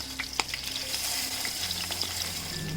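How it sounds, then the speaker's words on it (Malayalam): Masala-coated fish frying in oil in a pan makes a steady, close, crackling sizzle with small pops throughout, and no voices. "ഈ മസാല പൊട്ടി വെച്ചിരിക്കുന്ന മീൻ ഇതിലേക്ക് ഇട്ടിട്ട് ഫ്രൈ ചെയ്തെടുക്കാം"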